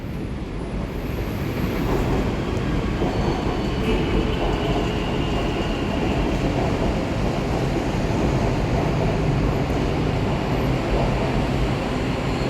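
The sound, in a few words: BTS elevated skytrain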